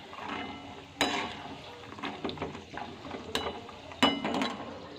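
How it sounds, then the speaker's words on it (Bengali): Peanuts frying gently on low heat in a pan, a soft sizzle under a loose run of scraping and tapping as a utensil stirs them, with two sharper knocks against the pan. "বাদামটা একটু কম আঁচে ভাজতে হবে, না পুড়ে যাবে।"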